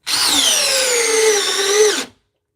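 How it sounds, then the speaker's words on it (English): A DeWalt cordless drill in speed 2 drives a screw with a T30 bit, its motor whining loud and steady for about two seconds, pitch sagging under load before cutting off abruptly. "It will sink it. It takes all the power the drill has."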